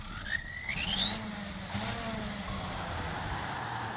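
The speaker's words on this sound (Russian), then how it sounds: "Вот такой вот у нас свистящий турбированный звук двигателя." Turbocharged Ural 6614 truck engine in the Spin Tires video game starts and idles with a rising whistle, steady and fairly loud, running alone for a few seconds.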